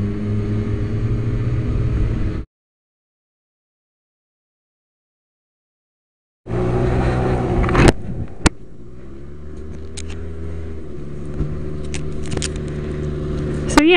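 Road traffic passing a moving scooter, with steady engine and road rumble and a few sharp transient clicks, broken by a few seconds of silence partway through.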